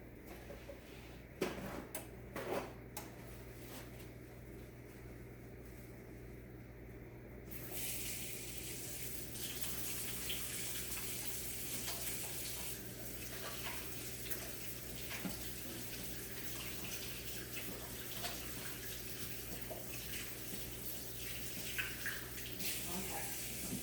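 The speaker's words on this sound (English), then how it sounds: "Let me wash my hands again." A kitchen tap runs while hands are washed during Thanksgiving turkey preparation. A few clicks and knocks come first, then a steady rushing stream of water continues to the end.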